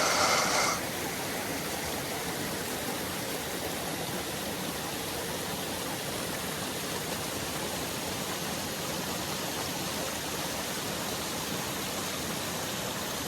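Steady rushing water fills the whole stretch, a dense, even roar like a nearby stream or waterfall with no pauses.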